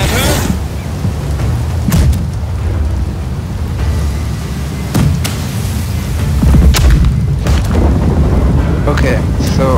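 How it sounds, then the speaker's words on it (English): Heavy cannon fire in the naval video game Blackwake, with several deep booming blasts at irregular intervals over a constant rumbling background, loud and close. "fire the sail cannons if you can"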